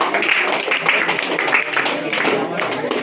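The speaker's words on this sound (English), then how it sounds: "Please give a big round of applause." Applause and clapping from an audience at a school award ceremony, a dense steady patter of many hands lasting the whole moment, fairly loud and continuous with no break.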